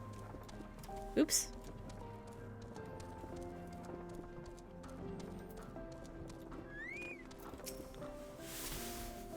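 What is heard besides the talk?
chocobo carriage hooves clip-clopping in video game Final Fantasy XIV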